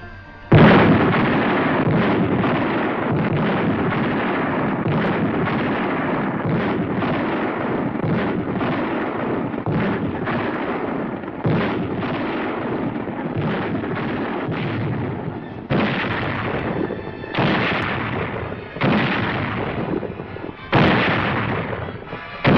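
Heavy guns backing an infantry assault in the Pacific war, firing in a dense, continuous barrage of loud booms and blasts with no break for over twenty seconds.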